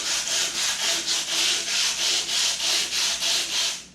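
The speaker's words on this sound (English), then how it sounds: "I probably want to sand it a little bit more" 80-grit sandpaper rubs back and forth over a homemade bonsai pot in about a dozen even, rhythmic strokes, a close, loud scratchy hiss with no voices.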